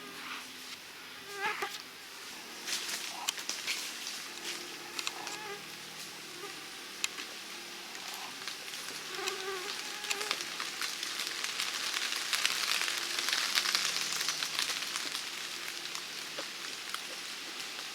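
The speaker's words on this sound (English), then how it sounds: "Oh, the mosquitoes are trying their best." Thin, high mosquito buzzing hovers close and drifts in and out by a creek, with scattered soft ticks and patters of rain in the background; no voices.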